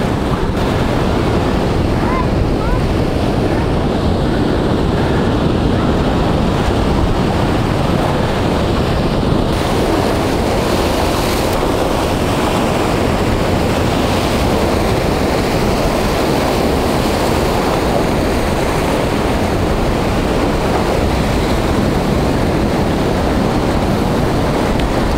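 Ocean water surges through rock archways and caves at low tide, a constant loud roaring wash of surf mixed with heavy wind buffeting the microphone, with no talking throughout.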